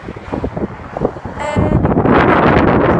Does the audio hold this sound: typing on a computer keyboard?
no